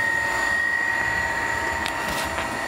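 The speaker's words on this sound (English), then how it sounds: "So now I turn on the vacuum pump," A roughing vacuum pump hums steadily in a lab setup with a turbo pump controller, a constant broadband drone with a fixed tonal whine, loud and close, with no voices.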